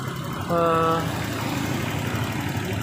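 Honda scooter engine idling steadily with its idle-stop system failing to shut it off; a constant close, low rumble, briefly overlaid by a short tonal hum near the start.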